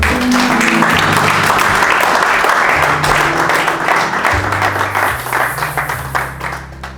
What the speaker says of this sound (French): Qui va acclamer le Seigneur?